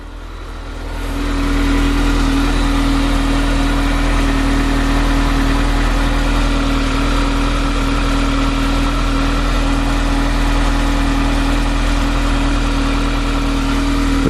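A Skoda Fabia 1.2 TSI petrol engine catches after a short start and settles into a steady, close idle with a constant low hum and a faint whine, running alone without voices.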